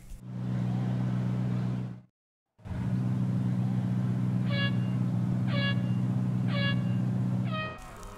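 A Porsche 918 Spyder in Real Racing 3, driven around Melbourne, holds a steady, loud engine drone that cuts out briefly, then resumes with a string of short, rising whistling tones over the engine.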